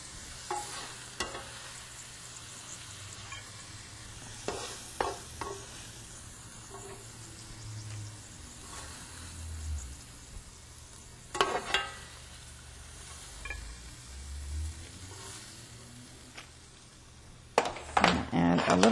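Bean sprouts are stir-fried in a pan with butter, a low sizzle broken by scraping and tossing of the utensil against the pan, several sharp clanks and knocks, close up, with intermittent talking.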